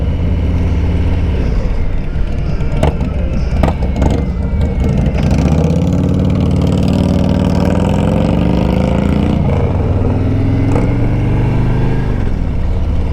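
A 2020 Harley-Davidson Road Glide runs with a loud, steady low rumble close by, the engine note lifting and easing slightly as it idles and revs gently throughout.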